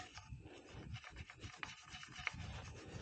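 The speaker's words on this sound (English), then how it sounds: "Now some simple green, and I'm going to be scrubbing all over the place" Scrubbing a Massey Ferguson 231 tractor gas tank with Simple Green cleaner produces a quiet, steady back-and-forth rubbing and brushing, close up and alone.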